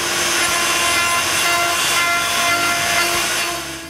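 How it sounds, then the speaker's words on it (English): Wood router rounding over sharp corners on a wooden hair dresser organizer, a loud continuous high whine with grinding texture, steady throughout and tapering slightly at the end. "Now I need to route the rest of the sharp corners."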